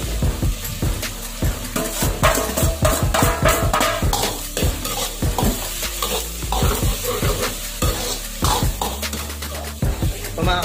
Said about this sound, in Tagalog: Lagyan na po natin yung bawang.